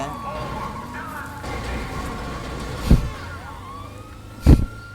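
A police siren wails in Grand Theft Auto, a wavering tone under street and engine noise, with two sharp impact bursts and someone talking over it.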